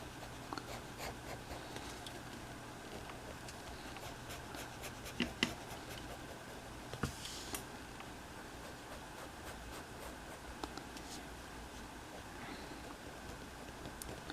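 Pencil on paper drawing textured curved lines and scale patterns for a Pachycephalosaurus dinosaur, a steady faint scratching with short stroke accents, close and quiet with a low background hum and no voices.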